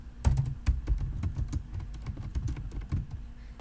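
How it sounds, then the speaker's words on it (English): Steady, fairly quiet rapid typing on a computer keyboard, with quick irregular key clicks close to the microphone and nothing else in the background. "if I begin to do this typing"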